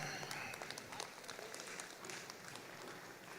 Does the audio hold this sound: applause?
yes